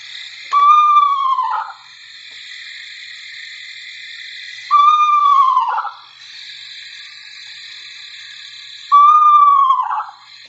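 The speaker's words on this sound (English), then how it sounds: "So here's the whinny of the eastern screech owl." An eastern screech owl gives its whinny call three times, each a clear descending, quavering whinny spaced a few seconds apart, loud and close over a steady background hiss.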